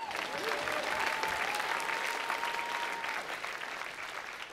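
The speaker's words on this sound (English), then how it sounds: "This is where you cheer. You cheer again." A church audience cheering and applauding on cue during a sermon, a dense, steady wash of clapping with a tonal whistle-like sound running through it, with no speech over it.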